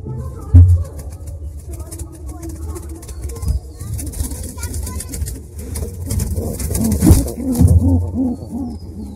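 Giribaz pigeons in a loft, one feeding its chick, give low rumbling coos close by amid rustling and shuffling, with a few sharper knocks and muffled background voices.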